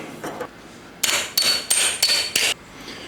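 Five sharp metallic hammer strikes on a 1948 GMC pickup fender brace ring out close by in a quick, uneven rhythm, preceded by a couple of softer taps.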